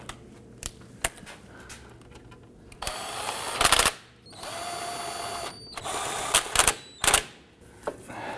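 Alternator mounting bolts on a 2008-2011 Ford Focus being snugged down with a power tool: short bursts of close, rattling whirring, separated by quieter gaps with scattered clicks and tool handling.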